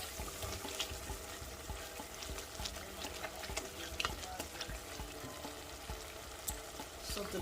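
Peppered snails sizzling and frying steadily in a pan for a sweet and spicy sautéed snail stew, a continuous close crackle with faint stirring and watery bubbling, no talking.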